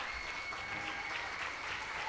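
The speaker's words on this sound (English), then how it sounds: "give her a big round of applause" Steady, distant applause from a civic gathering as a standing ovation honors awardee Beth Hassett, a dense even wash of clapping without pauses.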